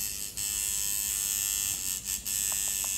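A Sidewinder v4 tattoo machine runs with a steady, close electric buzz for about three seconds, with a couple of brief dips in the hum and faint clicks near the end.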